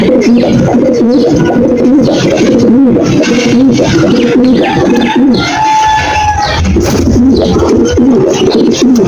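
Pigeons coo continuously in deep, throaty warbles, several birds close together, with a steady dense backdrop of more cooing.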